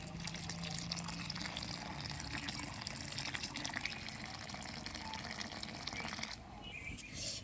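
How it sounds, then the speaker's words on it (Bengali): Whey water poured into a pot of boiled milk to split it into chhana, a continuous soft trickling and splashing of liquid at close range, fairly quiet, easing off toward the end. "আমি এই ফুটানো দুধের ভিতরে দিয়ে দিচ্ছি ছানার জল"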